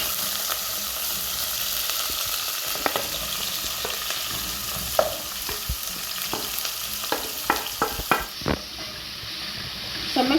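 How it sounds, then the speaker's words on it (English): Onions fry in a hot pan for a homemade dinner, giving a constant crackling sizzle close by, broken by repeated scraping stirs that grow more frequent toward the end, with no voices. "So make sure you go on while turning your onions like this until they cook down to soften."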